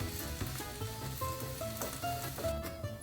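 Sliced onions sizzle and fry in a pan for borscht, a steady close crackle with small pops and faint scraping of a stirring utensil throughout.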